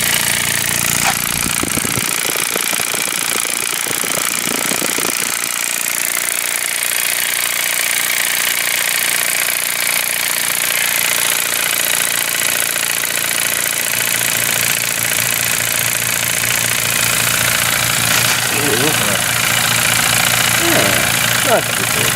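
A running steam engine gives a loud, continuous mechanical drone with a rhythmic chugging texture, steady and close, under occasional voices.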